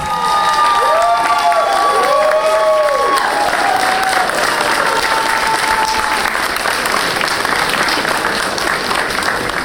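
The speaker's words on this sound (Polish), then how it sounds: "I wielkie, wielkie brawa!" Wedding guests break into loud, sustained applause and cheering after the couple's first dance, dense clapping close by, with a few shouts and whoops on top early on.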